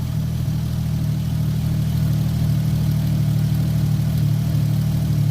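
Lexus GS300 fitted with a turbo runs with a steady, loud engine drone and low rumbling exhaust that holds constant throughout, while heavy smoke pours from the tailpipe; no one speaks.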